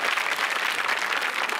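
A television comedy show audience breaks into dense, loud applause, a continuous wash of many hands clapping at close range with no break.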